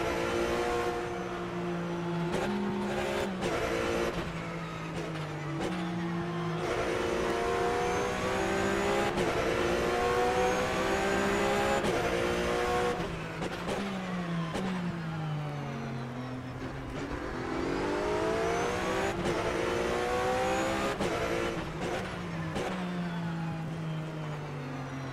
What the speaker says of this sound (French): Je vous laisse aussi apprécier le bruit du moteur de cette Porsche Cup